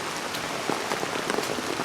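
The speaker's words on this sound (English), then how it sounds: "now it's raining again" Rain falls steadily on a wet, flooded suburban hiking trail, a close, even patter of drops with scattered heavier splats and no talking.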